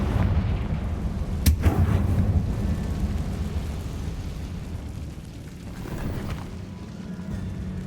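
Confringo fire spell explosions in the Hogwarts Legacy video game: a sharp crack followed by a continuous low roaring rumble of blasts, swelling again near the end, dense and loud throughout without talk.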